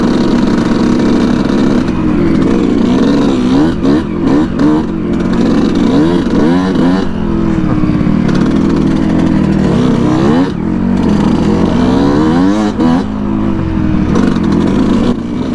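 A Yamaha YZ125 two-stroke dirt bike with a six-speed gearbox revs hard and climbs up through its gears, the loud, buzzy engine note rising and dropping repeatedly with each shift, close and continuous.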